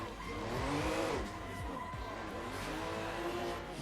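White Toyota Supra drift car at a qualifying event slides past, engine revving and tires squealing in a long skid, heard from a distance.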